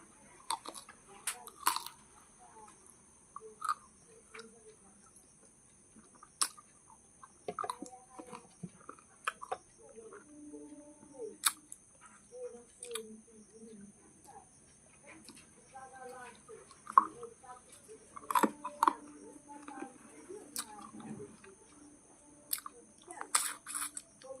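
Crunchy chewing and biting on hard-boned pangas fish, close and intermittent, with soft clicks and crackles spread across the stretch and occasional background noise.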